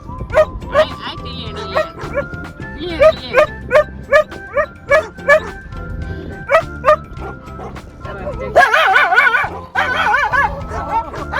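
A dog riding in a car on a trip to a temple lets out a quick run of high yips and whimpers, then a louder, wavering whine near the end, with people talking nearby.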